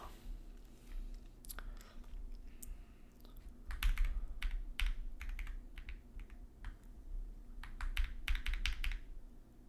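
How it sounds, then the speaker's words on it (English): Computer keyboard typing during a coding session, irregular bursts of clicky keystrokes near the microphone over a low background hum. "I'm reflashing my keyboard right now"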